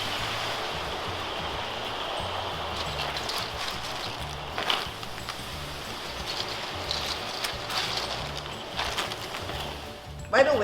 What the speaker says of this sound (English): By the way, the oil bubbles because we've used the oil previously to fry the bananas.